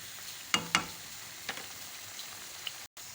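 Oil is added to a bubbling Lahori chickpea curry, giving a quiet steady sizzle with a few sharp clinks of a utensil against the pot, close by and with no talking.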